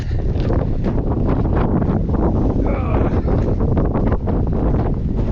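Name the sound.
blast of wind on a hilltop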